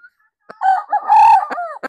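A street-breed Kelso rooster crows once, close and loud, a short drawn-out call with a few soft clucks around it.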